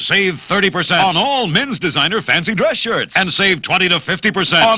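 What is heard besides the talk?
None of the usual background noises is heard.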